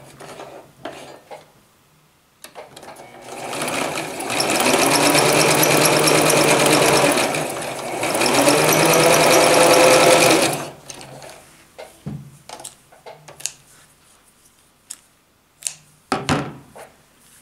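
A sewing machine stitches stretch fabric for girls' leggings, running in two steady whirring runs of several seconds each, separated by a brief dip, then clicks and handling noises as the material is moved.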